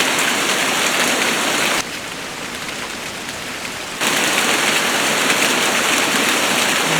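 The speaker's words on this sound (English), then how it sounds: "That's how much rain we're getting." Heavy rain pours down near a road, a dense, loud hiss that drops briefly to a softer wash before surging back to full strength. No voices are heard.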